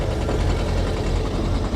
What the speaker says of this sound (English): And then we've got quite an aggressive misfire.